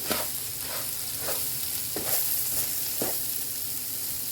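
Grated carrots for vermicelli pilaf sauté steadily in a hot pan, a continuous close sizzle with several brief louder bursts as they are stirred, no voices.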